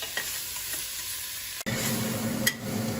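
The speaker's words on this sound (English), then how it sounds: "Give it a little stir." Carnitas ingredients sizzle in a pan with a quiet, steady frying hiss, broken by a sharp scrape of a stir midway and another light clack near the end.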